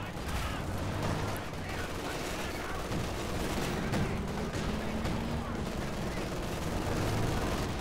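An Ostwind anti-aircraft tank fires in the video game Company of Heroes 2, dense rapid bursts of gunfire blending into a loud, continuous battle din with commentary running over it.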